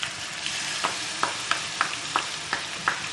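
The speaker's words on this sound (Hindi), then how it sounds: "अब मैं इसमें अदरक लहसुन का पेस्ट शामिल कर रही हूँ।" Minced meat keema frying in a pan right after ginger garlic paste goes in, a steady close sizzle with a series of soft regular stirring clicks, no voices.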